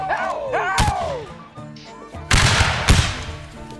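Musket volleys in a North & South line battle game, with several sharp shots and a heavier crackling burst of fire near the end, mixed with game sounds and whistling tones.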